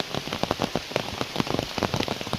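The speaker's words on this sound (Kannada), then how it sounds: "ಮಳೆ ಹಿಂಗೆ ಬಂದರೆ ಹೆಂಗೆ ಚಿನ್ನ?" Rain falling on a walking path on the way to Yana, a close steady patter with sharp individual drops splashing in quick irregular succession, no voices.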